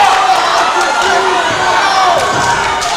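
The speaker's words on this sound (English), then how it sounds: "The crowd's just going to get louder and louder." Crowd at a Bellator-veteran MMA fight cheering and shouting in a steady roar, with a commentator's voice talking over the noise throughout.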